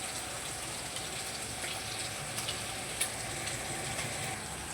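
Prawns frying in oil in a pan, with a steady, quiet crackling sizzle that carries on without pause and has a few sharper pops. No voices.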